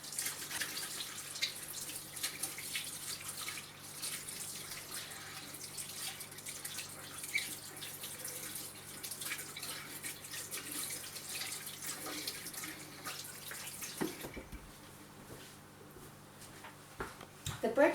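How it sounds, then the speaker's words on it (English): Hands washed under a running kitchen tap after baking bread rolls, a continuous splashing stream with drips that runs steadily, then cuts off near the end. "Let me wash my hands."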